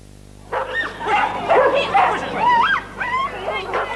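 Several dogs yip, whimper and bark in a lively overlapping chorus, fairly loud and close, with high whining cries rising and falling after a quiet start.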